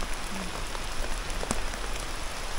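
Steady rain pours down outdoors at a mini lagoon fishing spot, a dense, even hiss of drops hitting surfaces that continues throughout without any voices.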